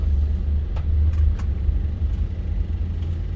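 Steady low rumble of a car driving, heard from inside the cabin, with faint brief knocks over a continuous engine and road drone.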